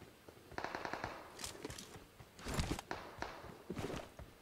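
Gunfire in the video game PUBG Mobile, a string of sharp cracks and short bursts, some clustered and some spaced apart, with softer scuffing between them and no talk.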